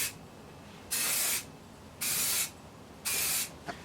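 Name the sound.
spray painting a vice with spray can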